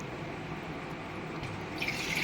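Water draining off washed sago pearls gives a faint, continuous trickle and drip against a steady background hiss, close and quiet, with no speech.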